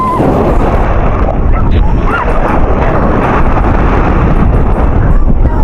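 Strong wind roars steadily into the microphone at Puka Beach, Boracay, a dense, low buffeting rumble that never lets up across the whole stretch.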